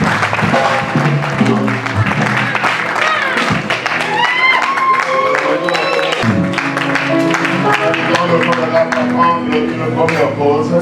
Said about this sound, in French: Give it a round of applause to God.